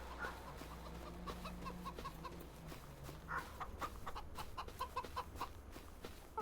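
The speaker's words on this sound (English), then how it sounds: "Chickens in there." Chickens clucking on a farm in Farming Simulator, scattered short clucks over a low steady ambient hum, fairly close and moderate in level, with no talking.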